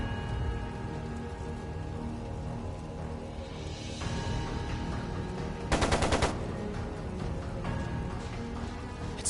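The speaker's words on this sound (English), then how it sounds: "It sounded like a machine gun." Rapid machine gun fire in the video game Trails of Cold Steel II, a dense rattling burst standing out briefly over a steady hum of background game noise.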